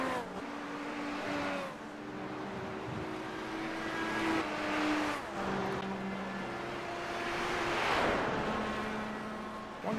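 Several race cars pull into the pits during a caution in an IndyCar-style race, engines droning and shifting pitch as they pass close by, overlapping one another continuously with no talk.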